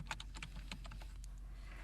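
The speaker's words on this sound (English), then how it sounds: "I hit the Enter key and go down to the next task" Faint computer keyboard keys clatter in a quick, irregular run of light taps, close and quiet, with no voices.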